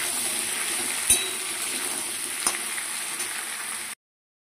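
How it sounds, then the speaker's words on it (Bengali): Potatoes, sweet potato and pumpkin fry together in hot oil, giving a steady, close sizzle throughout, with two sharp knocks as a utensil stirs the pan. "সব একসাথে ভাজবো ভালো করে। সবগুলোকে একটু ভালো করে নেড়ে নেবো।"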